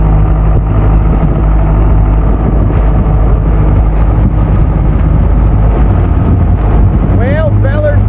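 A boat limps back toward the ramp on one engine after a blown drive, a loud steady motor drone with wind and water rush filling the whole stretch, and a voice speaks briefly near the end.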